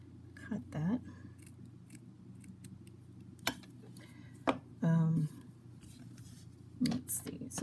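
Scissors snip through saddle girth material for a flat racing model horse saddle, a handful of short, close cuts spaced apart with quiet handling noise and brief soft vocal sounds between them.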